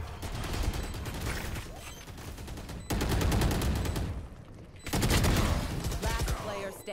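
Gunfire in a shooter video game as a player shoots at breakable corners, dense rapid bursts of automatic fire in loud sustained stretches separated by brief lulls, close and continuous.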